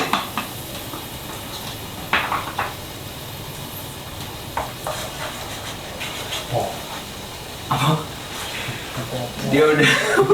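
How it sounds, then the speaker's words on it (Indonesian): Blended spice paste sautéing in a pan, a steady soft sizzle with intermittent scraping and stirring clatter from a utensil, as a person talks over it throughout. "ketika kita menumis bumbunya itu bumbunya harus sampai dia caramelize."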